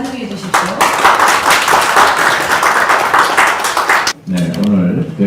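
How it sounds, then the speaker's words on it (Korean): Loud audience applause at a Korean diaspora forum opening ceremony in a National Assembly seminar room, sustained clapping for several seconds that cuts off briefly before a voice begins speaking. "여러분 큰 박수로 환영해 주십시오."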